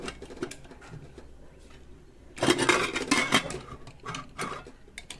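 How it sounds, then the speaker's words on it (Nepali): A metal pressure cooker lid is set in place over simmering milk for khir, giving a cluster of close, bright clanks and rattles after a quieter stretch. "प्रेसर कुकरको ढक्कन लगाएर 2 सिटी लगाउँदै छु"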